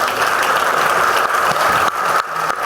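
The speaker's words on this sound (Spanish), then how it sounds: "Un aplauso." An audience claps at a book presentation on underground mining in Aznalcóllar, a dense, loud burst of applause from many hands that thins slightly toward the end.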